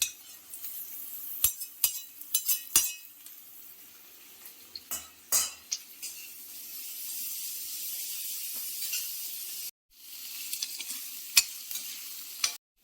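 Finely chopped ginger sizzles in a pan for Hakka-style egg chow mein, a quiet, steady frying hiss cut by sharp metal clinks and scrapes of a utensil, with a brief pause near the end.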